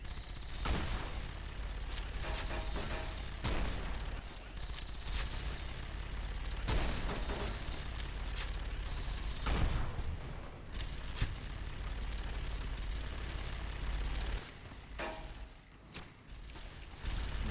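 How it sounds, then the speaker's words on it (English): Gunfire and explosions in Fallout: New Vegas, with soldiers shooting at their own personnel. Sustained, fairly faint volleys of shots and booms roll over a steady low rumble, with a few sharper cracks standing out. "They're shooting at their own personnel."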